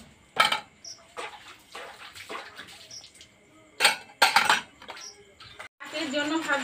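Scrubbed dishes rinsed one at a time under running water at a home sink, with intermittent splashes, clinks of utensils and bursts of flowing water, while someone talks over the work.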